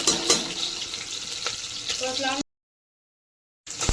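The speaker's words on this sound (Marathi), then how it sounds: "सगळं मस्त कांदा टाकलाय" Onions sizzle and crackle in a hot pan, a steady moderate frying hiss with a few sharper pops, briefly cutting out to silence before resuming.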